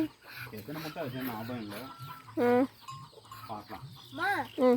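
A hen, a country chicken brooding duck eggs, clucks in short bursts close by while people talk around her.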